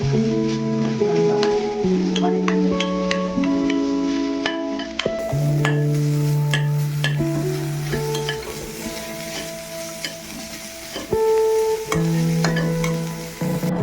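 Sliced ginger and garlic sauté in a pan, with a steady sizzle and repeated stirring scrapes and clinks at close range, while faint background tones play throughout.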